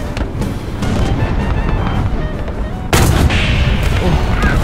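Tank gunfire in War Thunder from a Swedish Strv 103 turretless tank battle, a steady roar of battle noise with a loud cannon shot cutting in near the three-second mark, nearby and without voices.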